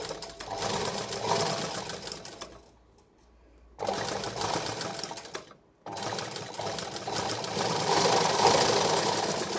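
Sewing machine running steady bursts of stitching on a katori blouse with lining, three long runs separated by two brief pauses, loud and close with no talk.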